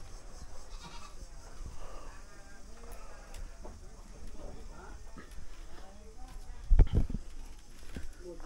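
Goats in a pen bleat now and then, fairly faint and mid-distance, with one louder call near the end, while people talk nearby.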